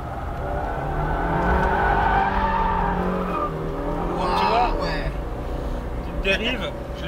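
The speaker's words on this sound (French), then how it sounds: "Dérive, je l'ai provoqué au freinage un peu quand même." A Fiat 124 Spider MultiAir 140 hp drifting and skidding under braking, with its engine droning and tires squealing briefly, while someone talks over it.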